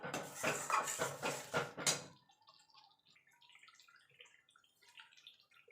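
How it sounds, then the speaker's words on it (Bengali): Spices are stirred and sautéed in a pan for dhaba-style matar paneer made without onion or garlic: a few loud, rhythmic scraping strokes, then a faint, scattered crackle alone. "এবার এই মশলাগুলো ভালো করে কষিয়ে নেব যতক্ষণ মশলা থেকে তেল না ছেড়ে আসছে"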